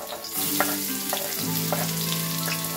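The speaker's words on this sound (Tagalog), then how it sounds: "ginigisa ko muna yung aking mga sangkap" Garlic and ginger sautéing in a pan as the base for chicken tinola, a steady close sizzle with a few sharp stirring scrapes and a low hum running underneath, no talking.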